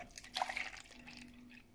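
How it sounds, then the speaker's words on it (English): Milk is poured into a bowl of porridge oats, making a short, soft liquid splash that fades into quiet. "Now you can pour out 160 ml of milk here."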